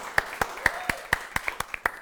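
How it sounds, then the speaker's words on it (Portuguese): A handful of people clapping for a storyteller on stage, about ten distinct, evenly spaced claps, close and clear with room ambience between them. "Palmas pra Lúcia."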